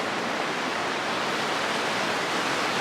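Flooded, swift River Chama rushing beneath a bridge in canyon country, a steady, loud broadband roar of churning water that stays constant throughout with no voices.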